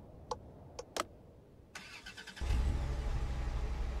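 A car engine starts in a video game about a truck and the road: a few faint clicks and rattles, a cranking starter, then the engine catches and settles into a steady low idle.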